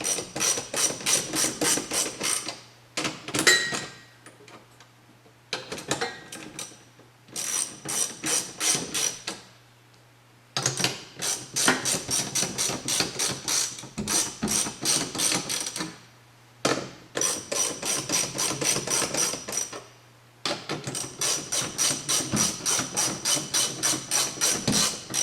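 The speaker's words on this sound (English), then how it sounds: "Now we need to grab our 18mm socket. And just kind of evenly tighten them up." A ratchet with an 18mm socket clicks in fast repeated bursts while tightening bolts on a 2015 Mustang shifter, close and crisp, with short pauses between strokes.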